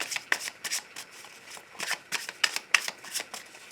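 Tarot cards riffle and shuffle in quick bursts at close range, crisp papery flutters repeating with short pauses between them, with no voices present.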